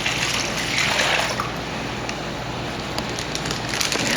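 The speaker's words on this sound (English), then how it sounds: "and pour your liquid in." Brine is poured steadily over pork chops standing upright in a container, a loud, close, continuous splashing rush of liquid with no talking.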